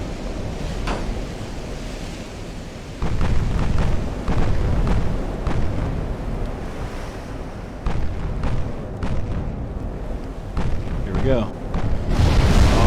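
20-inch quad turret battleship guns fire in Ultimate Admiral: Dreadnoughts, heavy booming salvos going off repeatedly over rolling sea and ambient rumble, with a voice speaking briefly.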